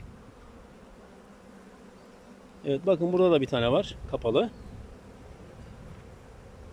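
Honey bees hum steadily around an open hive in autumn, the low buzzing continuous throughout while someone speaks briefly in the middle.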